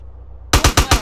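Gunfire in GTA San Andreas: after half a second of near silence, four loud, closely spaced shots ring out in quick succession.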